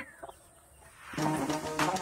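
Chickens at a house in the countryside: a few soft clucks at first, then louder clucking and squawking up close in a quiet setting.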